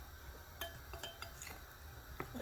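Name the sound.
stirring custard powder mixture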